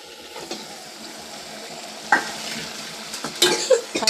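Mutton pieces frying in a pan with softened onion pieces, a steady close sizzle with a spoon stirring and scraping, sharper metallic clinks toward the end.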